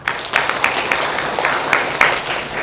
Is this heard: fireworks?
no